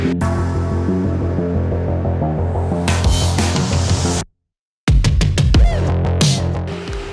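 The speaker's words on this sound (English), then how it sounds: "Now we'll come back and redo that weld" Close, loud welding on the torsion beam of a Chevy Cruze, a steady crackling hiss that breaks off for a moment before resuming as short bursts.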